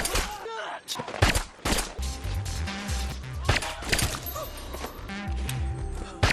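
Several sharp, muffled silenced-pistol shots in quick succession over a tense, thumping soundtrack, with low rumbling hits between them.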